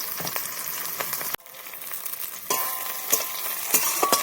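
Masala frying in a pan for an amodi fish jhal made without onion or garlic, a steady near sizzle with scraping stirs, briefly cut off then returning louder.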